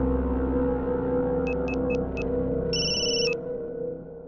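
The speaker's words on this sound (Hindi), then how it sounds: "हाँ बोल टिल्लू, अचानक कैसे फोन कर दिया?" A telephone rings in a short series of electronic trills, four quick bursts followed by a longer ring, heard over a steady low background hum in a Hindi film scene.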